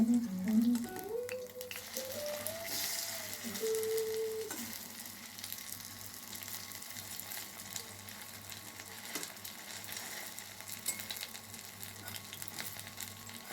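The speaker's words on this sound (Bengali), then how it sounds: "বাকিগুলো ভেজে নেব তো বাকিগুলো আমি দিয়ে দিলাম" Helencha leaf fritters fry in a pan of oil with a steady, close sizzle that holds throughout, and a brief tonal sound rises near the start.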